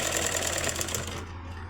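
An electric sewing machine stitches the sleeves of a size-36 blouse, running as a fast, steady motor hum with a rattle, close and loud, before it slows toward the end of the short burst.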